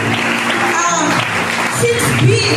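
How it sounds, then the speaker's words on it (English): Steady crowd clapping fills the whole stretch, with voices and music-like tones mixed in beneath the applause. "Let's clap our hands to Jesus."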